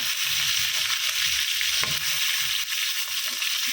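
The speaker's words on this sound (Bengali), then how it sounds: "এখানে মাছ ভাজা বসিয়ে দিয়েছি" Fish sizzles steadily in hot oil, a continuous close crackle and hiss of frying with faint stirring underneath and no voices.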